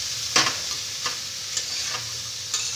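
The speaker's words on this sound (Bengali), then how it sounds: "দিয়ে ভালো করে আবার আমি একসাথে মিশিয়ে নেব" Leftover cooked rice stirred in a frying pan, with soft sizzling under a few scraping strokes of a spatula at irregular intervals, close and fairly quiet.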